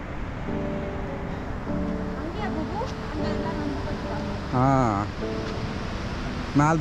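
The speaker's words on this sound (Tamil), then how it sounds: "ஸோ தண்ணி சவுண்டு கேட்குது." Jogini waterfall near Manali gives off a steady, broad rush of falling water throughout. People talk close by over the constant roar.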